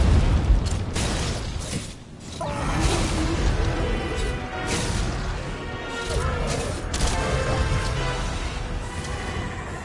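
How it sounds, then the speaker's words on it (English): Loud booms and crashing blasts from a monster hunt in Monster Hunter World: Iceborne fill the scene, with one heavy burst early and rumbling impacts and debris-like noise continuing throughout. "anticipate for the explosion in 3"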